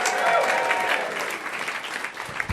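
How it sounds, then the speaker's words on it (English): Comedy club audience at Komedia Brighton cheering and clapping as a comedian takes the stage, dense steady applause with whoops, loud and close throughout. "Bring it a bit of cheering for the stage to Luke Kempner."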